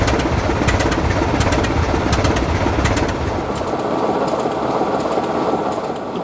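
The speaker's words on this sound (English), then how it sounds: "British Railways Class 24 diesel locomotives, also known as the Sulzer Type 2, were built from 1958 to 1961" British Railways Class 24 diesel locomotive, the Sulzer Type 2 built 1958 to 1961, running in Lancashire as a steady, loud engine drone with rhythmic clicking of the train over rails, easing slightly in the second half.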